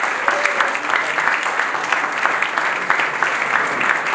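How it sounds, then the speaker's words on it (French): A loud, sustained round of audience applause, many hands clapping densely and evenly for several seconds, close and full with no pauses. "Est-ce qu'on peut encore une fois de plus applaudir pour la Française Pélé?"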